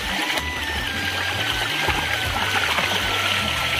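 A hidden waterfall near Baihata Chariali in Assam, heard as a loud, steady rush of flowing water that fills the scene without letting up.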